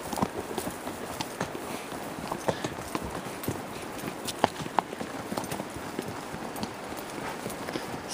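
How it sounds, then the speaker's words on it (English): A horse on a mountain pack trip clip-clops along a trail, its hooves landing in a steady walking rhythm. The hoofbeats are close and clear, with a few sharper knocks among them. "See if it gives you the perspective of being on a horse here."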